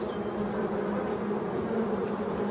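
Black honeybees stream into their hive in a close, steady buzzing hum, many wings droning together without pause.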